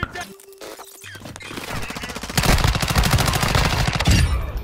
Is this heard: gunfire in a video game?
yes